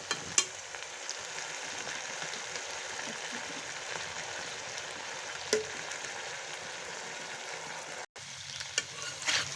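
Chalta (elephant apple) pickle with vinegar being stirred in a pan, giving a steady close sizzle with soft scraping, and a brief gap near the end.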